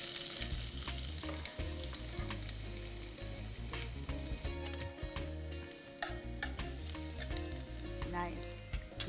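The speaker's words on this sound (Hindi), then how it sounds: "तेल यहाँ गरम हो गया, इसमें मैं ये स्लाइस्ड लहसुन डाल दूंगी।" Sliced garlic frying in hot oil for a Rajasthani moong dal, a close, continuous crackling sizzle with occasional stirring clinks and no talking.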